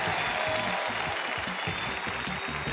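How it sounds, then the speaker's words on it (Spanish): Audience at a comedy and magic festival show applauding a volunteer, a dense, steady burst of many hands clapping at close range for a few seconds. "un fuerte aplauso para ella"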